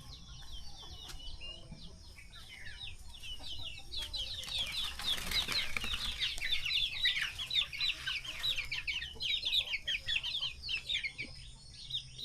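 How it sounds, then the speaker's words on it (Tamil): Many chickens and young chicks cluck and peep continuously inside a low-cost farm shed, a busy layered chorus of fowl with occasional wing flaps over a faint steady background. "இப்போதைக்கு கொஞ்சம் கோழி குஞ்செல்லாம் வச்சுருக்கோம்"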